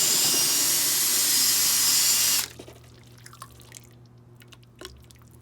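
A blender whirs loudly through liquid clay mixed with sand for about two seconds, then cuts off, leaving faint drips and small clicks.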